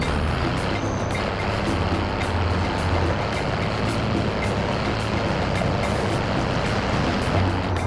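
Vehicle driven in the Call of Duty Warzone video game, a steady loud engine and road rumble running continuously throughout with no talk.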